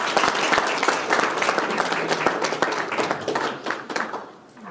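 An audience applauds at a humanitarian award ceremony at the United Nations, with sustained, dense clapping that fades toward the end.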